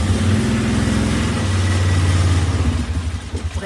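Four-wheeler ATV engine idling a little high, a loud close steady rumble with a lumpy throb that wavers slightly toward the end.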